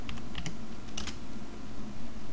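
Fast, steady typing on a computer keyboard as a search query is entered, a close, continuous patter of key clicks over a noisy background.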